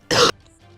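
One short, sharp cough or throat-clear bursts out close to the microphone, then quiet follows.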